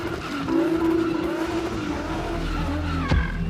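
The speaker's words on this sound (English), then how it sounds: "I have to tell my guys, put on other tires so we can go spin again." A spinning car in Cape Town, South Africa, holds a loud, sustained tire squeal over a roaring engine, the wailing pitch wavering through the skid with a sharp burst near the end.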